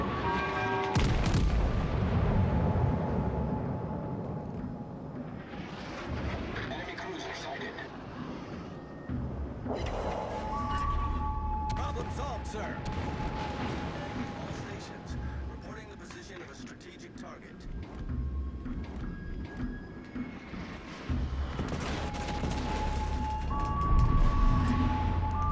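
Naval artillery from the T6 battleship Duke of York in World of Warships: Legends booms repeatedly, each heavy salvo rumbling out amid continuous game noise and whistling shells across a long stretch of battle.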